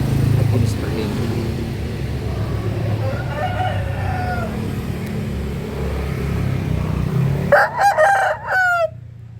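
Thai breed rooster crowing near the end, a single loud drawn-out crow over a background of engine rumble and other fowl sounds.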